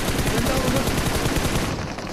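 Rapid gunfire from PUBG Mobile, a fast burst of repeated shots filling the short moment, loud and dense before tailing off at the end.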